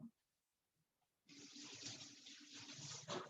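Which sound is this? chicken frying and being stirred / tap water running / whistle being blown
tap water running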